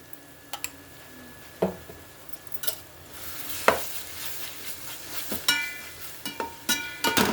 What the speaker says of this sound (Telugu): అల్లం వెల్లుల్లిపాయ పేస్ట్ వేస్తున్నాను